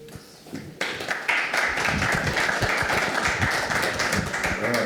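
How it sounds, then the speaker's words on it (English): Audience applause for four candidates at a local election debate, a dense sustained clatter of many hands that starts abruptly and holds steady at moderate loudness. "Could I just have another round of applause for our 4 candidates, please?"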